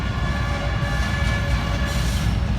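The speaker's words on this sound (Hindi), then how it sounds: "बहुत स्लो पोजीशन पे आ रहा है वैसे बड़ा ट्रेन" A large train arrives slowly at Malir railway station, a loud continuous rumbling roar with steady mechanical drone and no clear breaks.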